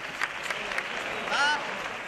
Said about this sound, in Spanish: Un fuerte aplauso a los voces.